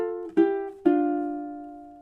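Ukulele playing measure 18 of a "Lean On Me" arrangement, a quick double-time down-up strum: two bright chords struck close together, the second left ringing out alone.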